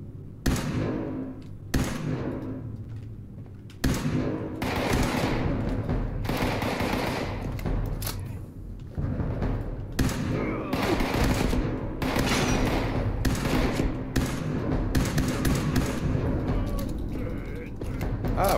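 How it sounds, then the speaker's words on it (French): Near-continuous bursts of automatic fire from a burst-fire weapon in Fallout 76 go on for the whole stretch, loud and dense, with thuds and game noise mixed in. "Ah bah oui, je peux tirer en rafale."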